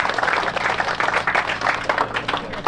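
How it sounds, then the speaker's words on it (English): Steady, dense clapping from a crowd gathered outdoors at a track day, even and fairly close throughout the short burst, with no talk over it. "Clap it up for yourselves."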